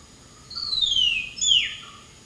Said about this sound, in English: let us listen to the call of the hill myna.